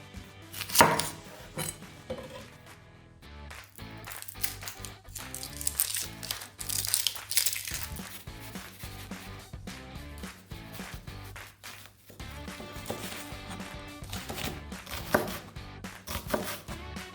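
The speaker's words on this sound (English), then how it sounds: "We need 1/2 a red onion in small, thin pieces." Knife chopping half a red onion into small, thin pieces on a board, with quick irregular cuts running under steady background music.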